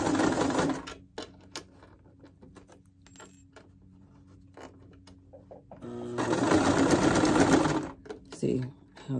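A sewing machine stitches a short zigzag along a zipper and lining in two bursts, a fast loud rattling run at the start and another after a quiet gap with scattered clicks, close by.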